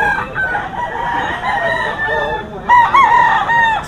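Gamefowl rooster crowing at a rainy-day market, a loud, close crow drawn out over several seconds with other fowl calling faintly around it amid a busy background hum.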